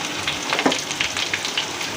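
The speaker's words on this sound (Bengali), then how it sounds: "এখানে আলুর চপ ভাজা হচ্ছে" Potato chops deep frying in oil at a night street stall, a loud, continuous close sizzle and bubbling with scattered sharper pops, no voices.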